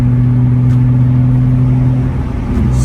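A BMW Z3 3.0 engine drones steadily on a windy mountain road, a loud, constant low hum with a brief wobble near the end as the factory exhaust begins to burble.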